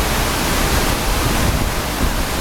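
Waterfall in the Philippines heard from close underneath, a loud, dense, steady hiss and roar of falling water filling the whole clip with no voices.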